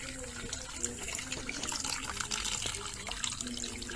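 Water runs and splashes into a basin where vegetables are being soaked, a steady close trickle with small drips and sloshes over a few seconds, no one speaking.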